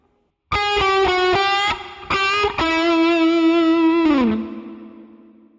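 A distorted electric guitar plays a short lick of bent, sustained notes with a few quick restrikes, ending in a held note that bends down and rings out.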